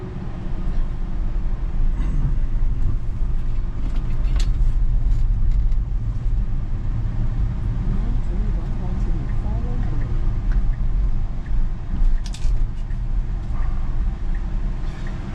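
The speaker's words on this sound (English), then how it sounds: "I am driving down from the north suburbs, sort of, down into the city." Car interior while driving on a road from the north suburbs into the city: a steady low road and engine rumble runs throughout, with a few brief knocks and rattles on top.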